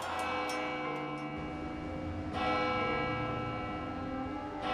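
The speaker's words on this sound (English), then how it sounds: "It's a bell tolling from this church, Saint-Germain-l'Auxerrois" Church bell of Saint-Germain-l'Auxerrois in Paris tolling, a sustained, resonant ringing that hangs in the air, with a fresh strike swelling the tone about halfway through; no voices.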